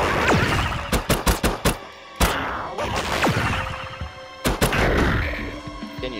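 In the video game Slayers X: Terminal Aftermath, a rapid series of sharp, loud shotgun blasts fires in quick bursts, with a heavier crash and swooshing impact sounds between shots.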